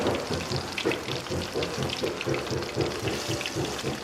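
Steady crackling sizzle of rakik bada batter, Padang-style fritters, frying in hot oil at the edge of a wok, continuous and close, with busy popping and no voices over it.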